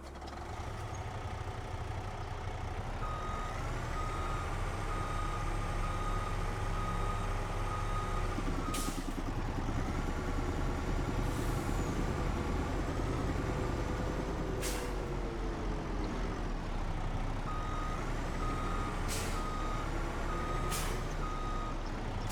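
A truck in the video game Farming Simulator 25 reverses to hook up a trailer, with a steady engine drone under a run of sharp, evenly spaced reversing beeps and several short hisses of air brakes.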